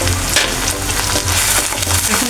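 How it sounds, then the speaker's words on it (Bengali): Ground spices such as coriander, cumin and dried chili sizzle and fry steadily in a hot pan, loud and close, with faint stirring scrapes and no talk. "এখন ভালো করে এটা কষা নেব।"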